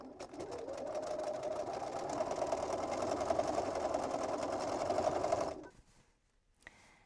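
A sewing machine stitching closed the opening left in a drawstring pouch purse's lining, one continuous close whirring run of about five seconds that stops abruptly into quiet.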